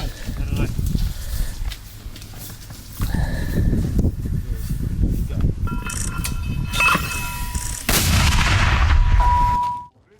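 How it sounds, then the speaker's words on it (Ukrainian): Ukrainian mortar fire near Bakhmut: several heavy, close blasts sound in an uneven sequence, with voices heard among the shots. "українські мінометники під Бахмутом б'ють по ворогу"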